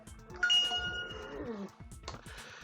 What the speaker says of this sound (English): When your phone goes off because you forget to mute it